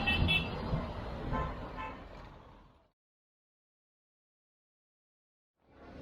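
Busy Cairo traffic circle with car horns tooting amid the rumble of passing vehicles, loud at first and then cutting off to silence before the street noise returns at the end.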